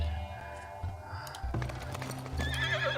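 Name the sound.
horses neighing in Farthest Frontier video game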